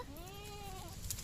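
A goat bleats in one long, wavering call with clear rising and falling pitch, fairly close and alone, recorded outdoors in a muddy field area beside a guava tree.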